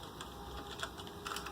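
Typing a ping command on a computer keyboard during a network test, heard as a short burst of quick, close key taps over a steady background hum.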